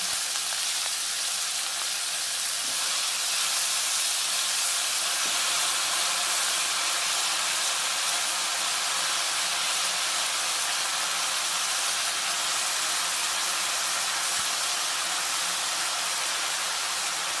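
Cut brinjals cooking in a hot pan for a brinjal curry with mango, a dense continuous frying sizzle and hiss that stays steady and close throughout, with no voices.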